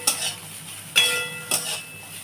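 Pulao is stirred in a pot with sugar water, three distinct scraping clinks of a spoon against metal over a faint background sizzle.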